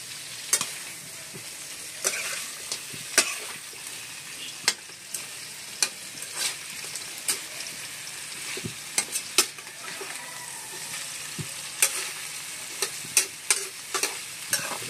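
Utensil stirring and scraping in a pot with irregular clinks, over a steady sizzling, frying hiss while cooking field frogs, no voices.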